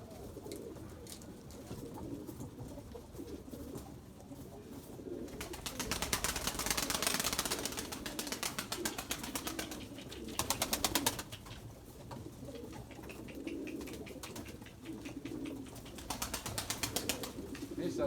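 Pigeons coo steadily in a loft, soft repeated calls with occasional bursts of wing flapping, heard nearby with no talking.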